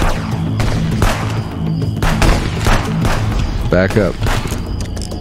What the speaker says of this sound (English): Gotta watch out for grenades.